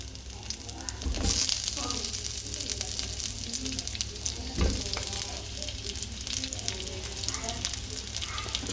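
Onion frying in a pan for beef caldereta produces a continuous close sizzle, with two sharper bursts where it is stirred or added; no one speaks.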